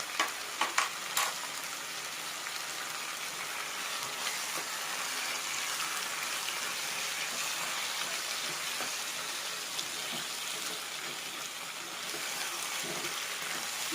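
Ginger garlic paste fries in oil in a pan for chili chicken, a steady hissing sizzle close by, with a few sharp clatters at the start and soft stirring scrapes underneath.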